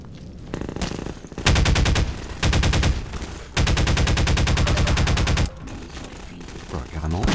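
A pump-action shotgun fires in Half-Life 2: Lost Coast, loud sustained bursts of gunfire in several long volleys with short gaps between them.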